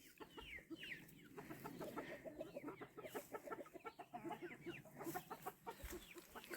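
Chickens cluck in a continuous, busy stream of short clucks and squawks close by on a permaculture homestead by an old stone house, some calls rising louder, with no talk over them.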